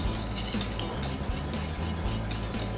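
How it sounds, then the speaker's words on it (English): Chocolate sauce of cocoa powder boiling in a pan on medium heat while being whisked, a steady dense stir-and-clink of the whisk against the metal with a low bubbling bed underneath, close and continuous, with no talking. "keep whisking it every now and then to make sure that it doesn't catch on the bottom of the pan"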